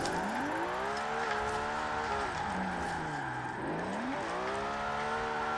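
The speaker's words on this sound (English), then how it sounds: "Accelerate in, then we're going to handbrake this, use the momentum of the car to handbrake in." A car drifts with the handbrake in Forza Horizon 4, played on a Thrustmaster TMX wheel. The engine revs climb and dip in sweeping waves while tires squeal through the slide, loud and continuous with no talking.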